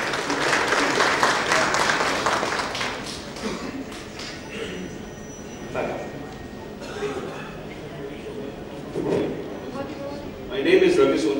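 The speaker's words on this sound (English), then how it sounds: "Round of applause" Audience applause at an industry awards night panel discussion, clapping strongest at the start and fading into scattered claps, shuffling and talk, with a brief burst again near the end.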